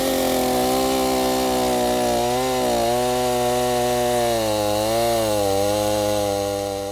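A chainsaw trims a timber log, its engine running loud and close with a steady drone that rises and falls in pitch as the chain bites into the wood, continuous throughout with no talk.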